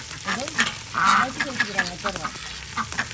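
Ducks quack repeatedly near an outdoor village kitchen where meat for a traditional biryani is being cooked, their nasal calls coming in short bursts over a low background of frying and stirring.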